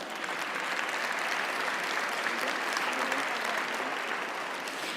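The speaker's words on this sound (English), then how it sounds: "I'd like you all to extend a hand of applause to our fantastic panel here" A conference audience applauds a panel with a steady, dense wash of clapping that holds at an even level for about five seconds, with no voices standing out.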